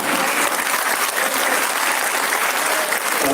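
Many listeners at a Jain monk's chaturmas discourse in Agra clap together, a loud, thick, unbroken burst of applause filling the hall for the full stretch.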